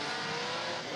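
A 1,000 horsepower Dodge Viper Formula Drift car at a drift qualifying round, its engine roaring loud and close in one sustained blast of broadband noise with hints of tire squeal, and no voices over it.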